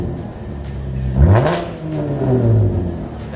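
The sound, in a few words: car revving with X-Force straight pipe exhaust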